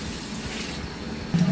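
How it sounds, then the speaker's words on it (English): Tap water running steadily into a sink while new plastic containers are washed out: a close, continuous hissing splash that swells slightly at the end. "The first step is to wash out your new containers"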